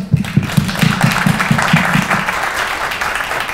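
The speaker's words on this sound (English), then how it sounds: "Let's give a round of applause for the panelists." Audience at a startup trends panel applauding the panelists, loud close clapping that holds steady for several seconds, with a low rhythmic thumping pulse under the first two seconds.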